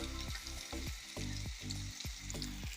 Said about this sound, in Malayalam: ഒരു വെളിച്ചെണ്ണ ഒഴിച്ചു കൊടുത്ത് നമുക്കിതിനെ വറുത്ത് മീൻ ഇട്ട് കൊടുക്കാം.